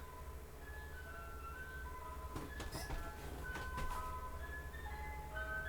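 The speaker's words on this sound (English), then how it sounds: "Ice cream truck." An ice cream truck's chiming tune drifts past at a distance, faint melodic notes over a low steady rumble of traffic.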